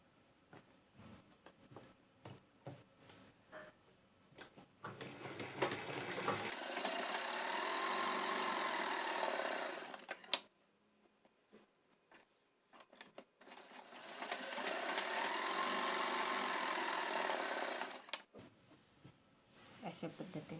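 Sewing machine stitching 4-inch tucks at the centre of a blouse, two sustained bursts of close, steady motor whir separated by a pause, with quieter handling clatter and faint talking around them.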